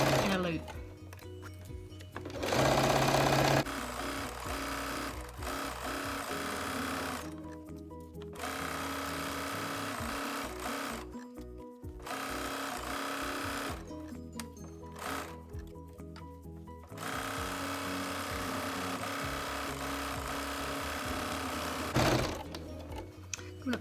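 A domestic sewing machine stitches a fabric wash bag forward and back in a loop, its steady mechanical whir running in bursts with brief stops while a person talks over it.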